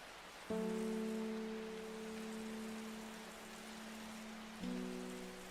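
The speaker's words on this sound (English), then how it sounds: "Oh, the rain in the background is so nice." Steady soft rain patters through a calm scene in the game Strange Horticulture, a constant hush beneath sustained low musical tones that swell at the start and again near the end, with no voices.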